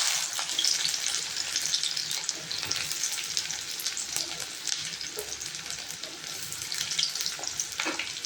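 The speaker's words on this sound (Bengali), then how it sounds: "পেঁয়াজগুলো বেশ লাল লাল করে ভেজে নেব" Chopped onions fry in hot mustard oil in a kadai, a steady close sizzle running throughout with faint scraping stirs and no voices.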